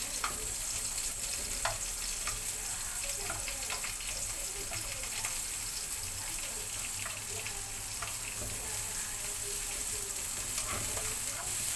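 Onion frying in a pan crackles and hisses steadily at close range, with scattered pops and light utensil clicks throughout and no speech.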